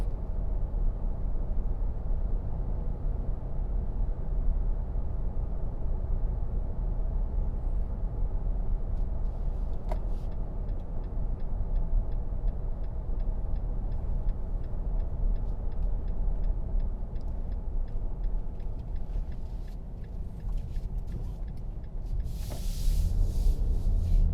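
Steady low engine rumble and road noise inside a 2022 Nissan Frontier PRO-4X pickup truck driving at night, with a faint rapid ticking like a turn signal partway through.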